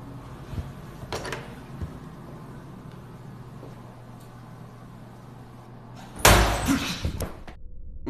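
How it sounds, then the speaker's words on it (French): A public toilet door slams shut with a sudden loud bang near the end, following a stretch of quiet room tone with a faint knock early on. "puis la porte se claque sans raison"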